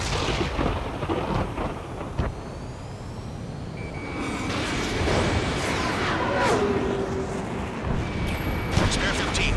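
A missile strikes a fighter jet in Ace Combat 7, landing as deep thunderous rumbles over steady engine roar, with radio chatter and warning tones layered on top.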